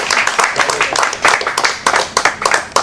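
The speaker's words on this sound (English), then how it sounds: "We can applaud you." A small group clapping at close range, irregular sharp claps for a few seconds with no talking.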